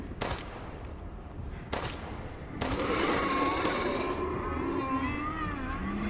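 Gunfire in the Resident Evil Village video game, a few sharp separate shots at first followed by a continuous burst, with a high wailing tone over the top.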